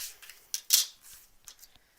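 Scissors snipping through paper and fabric pieces while foundation paper piecing a quilt block, a few quick close crisp cuts with short pauses between them in a quiet room.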